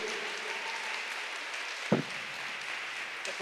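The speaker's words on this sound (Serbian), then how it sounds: "Molim aplauz malo jače za naše glumce." Audience clapping for actors on stage at a Children's Day event in the National Assembly, a continuous even patter of applause with one louder knock midway.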